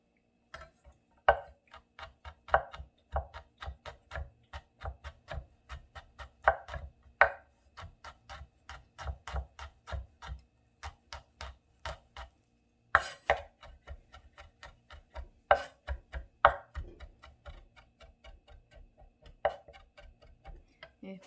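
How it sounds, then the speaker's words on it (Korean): Knife mincing green onion and garlic on a cutting board: rapid, crisp chopping taps in quick bursts, close and clear, with short pauses between runs. "네, 파마늘 다지겠습니다."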